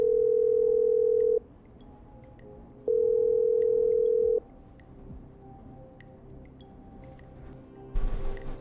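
A telephone dial tone in the game Killer Frequency plays as two long, steady, loud tones separated by a short quiet gap, followed by low background hum and a brief burst of noise at the end.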